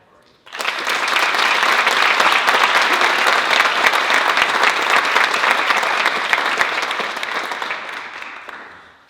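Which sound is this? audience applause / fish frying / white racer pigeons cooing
audience applause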